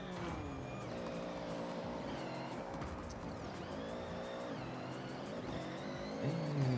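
Racing video game car drifting under e-brake, engine droning steadily with tire squeal and skidding through the whole stretch, a brief louder low surge near the end.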